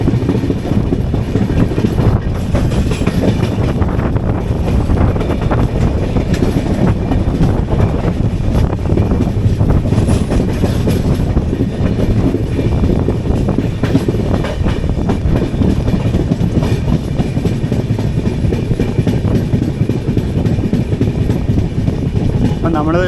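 Kochuveli–Mumbai LTT Superfast Express rolling on rails with a loud, continuous rumble and clatter of wheels heard from inside the train, steady throughout as it nears a station, with faint voices mixed in.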